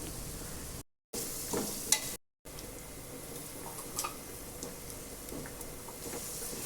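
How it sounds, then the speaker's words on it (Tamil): Biryani masala sautéing in a pan for chicken biryani, a soft continuous sizzle close by with occasional stirring scrapes and clicks, no talking. "பிரியாணி மசாலா சேர்த்து ஒரு 5 நிமிஷம் வதக்கி எடுத்துக்குவோம்."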